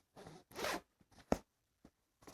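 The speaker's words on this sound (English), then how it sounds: "you're ended up closing the main zipper into the compartment" Zipper on a K&F Concept camera backpack being drawn closed in several short, quick pulls with gaps between them, close and fairly quiet.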